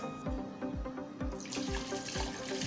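Hot water runs steadily from a tap, a broad rushing hiss that swells partway through, over a regular low thumping rhythm.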